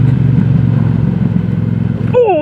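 A 2026 Triumph Bobber 1200 motorcycle being ridden, its engine a loud, close, steady low rumble under rushing wind, with a brief rising squeal near the end.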